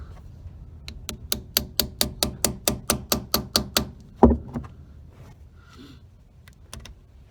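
Metal taps ring out on a 1956 Mercury Merc-o-Matic gearbox adjuster, about fourteen evenly spaced, crisp strikes in a steady rhythm, then one heavier knock and a few scattered clicks of tools.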